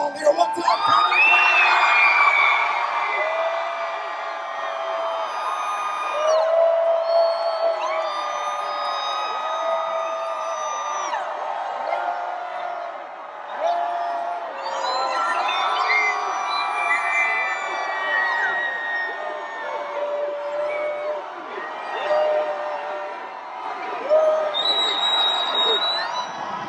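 A large Comic-Con convention crowd cheers, whoops and shouts for Dwayne Johnson and Nick Jonas at a promotional appearance for Jumanji: Welcome to the Jungle, a loud sustained roar of many voices that swells and dips throughout.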